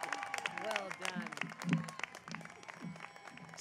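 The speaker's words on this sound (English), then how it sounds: "One more round of applause for Sierra" Audience applause at a Chico State commencement ceremony, a steady patter of many hands clapping that runs under a speaking voice.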